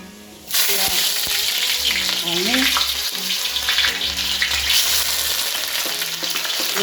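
Onions sizzle and fry in a pan for chicken curry, with a sudden loud burst as they hit the hot oil, then a steady close crackle broken by scraping stirs.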